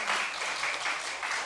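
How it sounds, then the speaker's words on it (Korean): A congregation at a Sunday morning church service claps in a steady, even wash. The applause is moderate in level, holds through the whole short moment, and no one speaks over it. "박수 한번 쳐줍시다."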